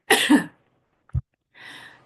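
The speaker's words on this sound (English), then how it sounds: "coughing fit" A short burst of allergy coughing, a few harsh throaty coughs separated by brief silences, close and fairly loud.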